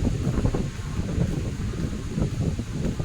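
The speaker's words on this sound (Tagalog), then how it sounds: "Lakas ng hangin dito." Strong wind buffets the microphone in a continuous low roar with gusty surges, no voices present, outdoors at Bihu Lake Park in Taiwan.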